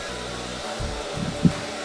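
A hair dryer blows steadily and close during a round brush blow dry, a continuous airy whir with small shifts in tone as the brush and airflow move, no talking.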